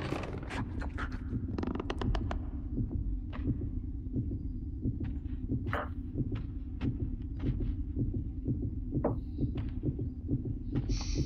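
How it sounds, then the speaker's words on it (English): Looping heartbeat in the video game Little Nightmares 2, a deep, steady double-thump pulse repeating throughout, with scattered sharp clicks and rustles over it. "Oh, that fucking heartbeat."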